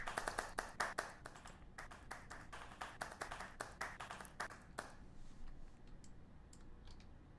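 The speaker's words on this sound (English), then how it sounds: "If everybody can give her a round of applause" A small audience at a VR metaverse summit gives quiet, sparse applause, scattered claps that thin out after about five seconds and fade into near silence, heard faintly at a distance.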